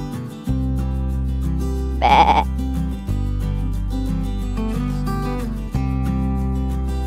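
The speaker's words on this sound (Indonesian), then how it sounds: "Hewan ini namanya domba" A single sheep bleat, a short wavering cry lasting under a second, rises loud over continuous background music.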